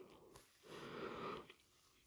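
Breathing into a microphone, close and airy: one long, rough breath swelling in the middle of a quiet stretch, with a short sniff-like puff before it and no talk.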